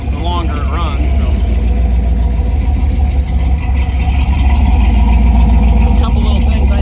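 1951 GMC 3100 restomod truck with Holley Sniper fuel injection idling, a loud, steady low rumble running throughout, with a person talking over it.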